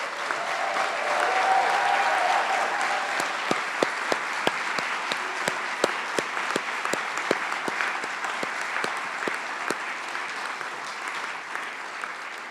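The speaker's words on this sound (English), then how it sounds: "Let's give them one more round of applause." Graduates at a college commencement receive sustained applause from the crowd, a thick, even roar of clapping with a few sharper individual claps standing out as it carries on for many seconds.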